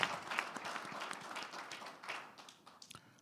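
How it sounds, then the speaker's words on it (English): An audience at a talk on brand partnerships applauds a hip hop museum, steady clapping from a crowd at moderate distance that fades gradually over a few seconds. "I think that deserves a round of applause."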